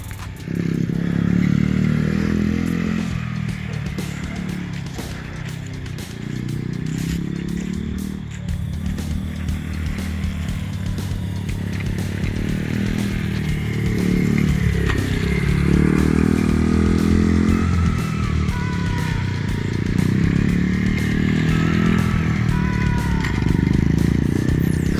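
Baja DR50xr small dirt bike ridden nearby with a loose chain, its buzzing engine rising and falling for a long stretch with rattling, scraping clatter running through it.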